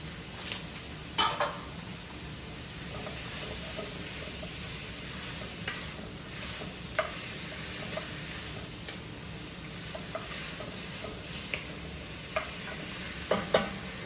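Potatoes sizzle steadily in a pot with browned onions for chowder, with a spoon scraping and stirring through the fry and occasional sharp clinks against the pot.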